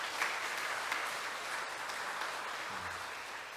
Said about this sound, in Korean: 예, 박수 한번 부탁합니다